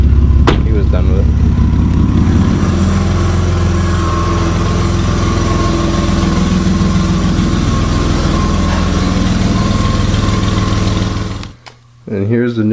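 A Jeep WJ idles with a Flowmaster 44 muffler, a steady deep rumble holding level and close until it cuts off near the end, with a voice briefly speaking over it at the start.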